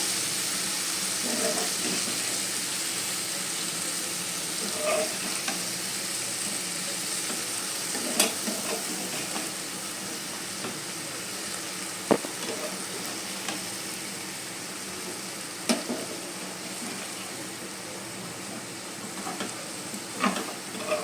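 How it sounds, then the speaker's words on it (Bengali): Soybean curry being sautéed in a pan, a steady soft sizzle with scattered scraping stir clicks throughout, moderately quiet and close, no talk. "এবার সব কিছু আমি ভালো করে কষিয়ে নেব"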